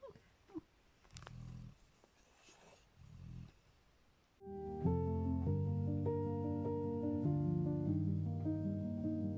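A sleeping animal snores softly in slow, rhythmic low rasps during a quiet indoor moment, and then steady music takes over.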